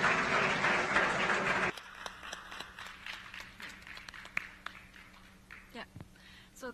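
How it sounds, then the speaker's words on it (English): An audience at a conference session on gender and resilience applauds in a dense, steady wash that cuts off abruptly after under two seconds, followed by quieter scattered knocks and room noise. "We already got, uh, I think, some very nice applause"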